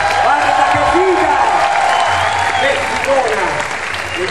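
An audience at the Padova Pride Village 2012 applauds and cheers loudly as Paola Concia is called onto the stage. The dense, sustained clapping has a few whoops in it, and a host's voice carries over the crowd.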